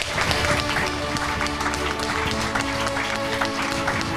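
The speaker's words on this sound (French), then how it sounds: "On les applaudit." An audience at a student awards ceremony applauds the winners with dense, sustained clapping that holds steady throughout, over a background of music.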